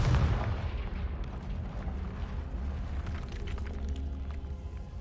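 A Confringo blasting spell in Hogwarts Legacy bursts with a loud boom, then a low rumbling tail lingers for several seconds without speech.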